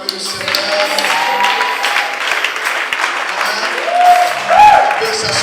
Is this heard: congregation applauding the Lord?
yes